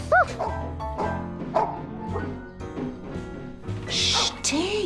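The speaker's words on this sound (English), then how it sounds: "Herbie was barking in a rage." A dog barks angrily in a cartoon scene, several sharp yips and bow-wows in quick bursts, some near and loud, mixed with squeaky whimpering and other voices.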